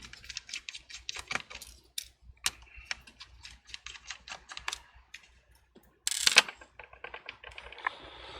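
Small screws being removed from a MacBook Pro laptop during a cracked-screen replacement, heard as a series of close, light clicks and taps with a brief louder scrape near the end.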